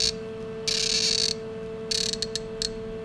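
A top wrench tightens a lathe chuck in a workshop, giving a few close, sharp bursts of ratcheting clicks over a steady electrical hum, with no one talking.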